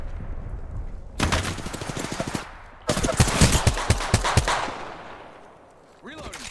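Gunfire in the video game Apex Legends coming from behind the player: two dense bursts of rapid automatic shots, the second longer and louder, separated by a short lull and followed by quieter game ambience.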